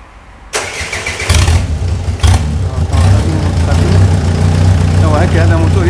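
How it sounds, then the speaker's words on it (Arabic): A Renault R19 diesel engine, removed from the car and run on the bench, cranks and catches after a brief quiet start, then settles into a loud, steady idle that continues close by for several seconds. "هذا الموتور يخدم تو من خارج سيارته"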